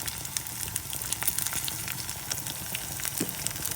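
Curry leaves, dried red chilli and asafoetida crackle in hot oil in a tempering for green apple pickle, a dense, steady sizzle with constant small pops, close by, with no talking.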